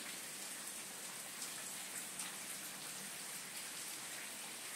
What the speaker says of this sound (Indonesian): doa ketika hujan turun